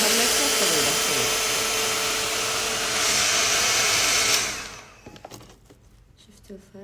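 A hair dryer blows steadily and loudly for about four seconds while hair is being styled, then cuts off, leaving quieter handling noises.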